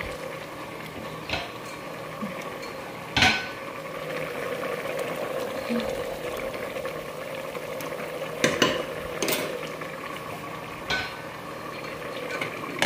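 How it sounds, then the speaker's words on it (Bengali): Bora fritters fry in a pan on a stove while utensils stir them, making a soft continuous bubbling sizzle broken by a few sharp metallic scrapes and clinks, with faint voices now and then. "এইদিকে আমি বড়া বানাইতেছি"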